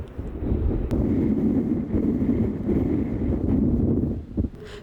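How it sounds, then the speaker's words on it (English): Strong wind buffets outdoors in Spain, a loud steady roaring rush across the microphone that swells and eases over a few seconds. "The wind picked up."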